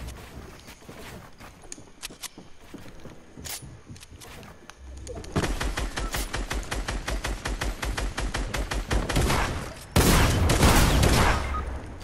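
Gunfire in a Fortnite match: scattered shots early on give way to dense, rapid bursts of loud automatic-sounding fire that continue to the end, with no talking.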